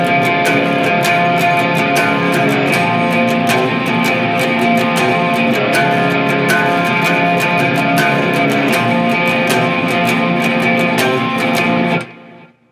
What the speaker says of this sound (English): so the verse riff sounds like this